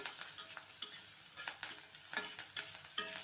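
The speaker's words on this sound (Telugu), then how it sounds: "ఇవి కొంచెం వేగిన తర్వాత తరిగి పెట్టుకున్న కరివేపాకు పచ్చిమిర్చి వేసేసుకోవాలి" Curry leaves and green chillies frying in a pan, a soft sizzle with brief crackles and spits of hot oil recurring every half second or so, faint and close, with no talk.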